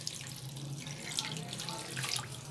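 About one and a half cups of water pour into a karahi holding onions with ginger and garlic paste, a soft continuous splashing gush, close by with no talking.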